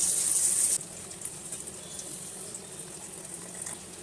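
Boiled gongura leaves are strained, so water pours and splashes steadily through a strainer up close, with a louder gush in the first moment that then settles into a softer, continuous trickle.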